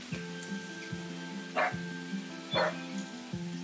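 Cartoonish dog barking in the video game Dreams on PS5, two bright bark bursts about a second apart over a steady game music bed, fairly close and moderate in level.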